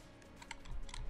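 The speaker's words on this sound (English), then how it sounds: "I have noticed that the sound of the keys and my mouse clicking is pretty loud" Loud computer keyboard keys and mouse buttons clicked rapidly during a session of the game Enter the Gungeon, a dense run of close, sharp taps that grows busier and louder toward the end.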